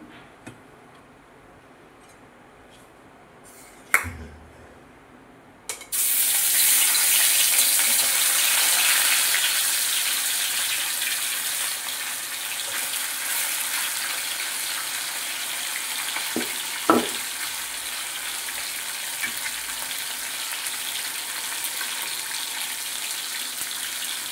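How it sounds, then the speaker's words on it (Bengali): Oil crackles and sizzles steadily in a hot pan after a couple of sharp clatters, a bright continuous hiss of catla fish frying with occasional pops and no talk. "মাছটা ভেজে নেবো।"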